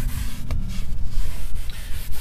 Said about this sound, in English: And we're just going to scrub the seats down here.